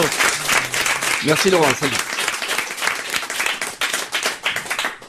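A French TV talk-show studio audience applauds loudly and continuously throughout, while a host speaks briefly over the clapping.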